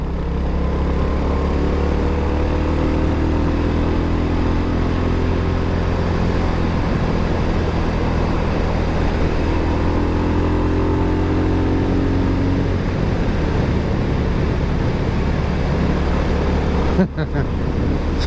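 A Royal Enfield HNTR 350 motorcycle rides along country lanes, its single-cylinder engine thumping steadily and loudly with rising and falling revs over constant wind and road rumble, with a brief knock near the end.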